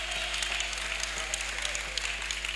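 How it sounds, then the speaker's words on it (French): A crowd applauds steadily, a dense wash of clapping with occasional sharper claps standing out, over a low constant hum. "Clap offering to Jesus"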